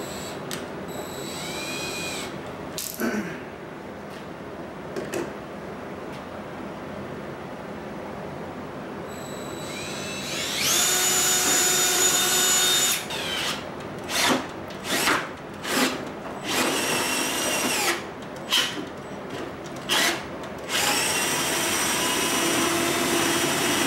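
Short bursts of a high-pitched electric drill whirring into wood as it drills a pilot hole, with a longer steady run in the middle and brief pauses between.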